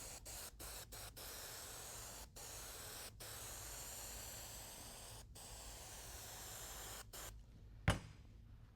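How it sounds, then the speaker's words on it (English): Spray adhesive hisses from an aerosol can onto foam for a custom truck interior, a long steady faint hiss broken by several short pauses, ending with a sharp clack. "spray your adhesive on the foam"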